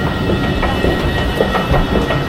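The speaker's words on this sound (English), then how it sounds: "That's our train, bro." A train rolls into a station on the Malmo via Rosengard line, a steady close rumble with rhythmic clickety-clack of wheels over rail joints, heard alone without voices.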